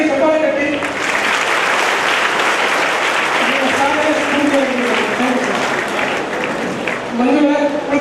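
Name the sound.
audience applause, clapping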